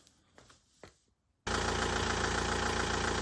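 An Audi RS4 engine starts for the first time after maintenance. A few clunks and a short silence come first, then the engine catches abruptly and settles into a loud, steady idle heard close up.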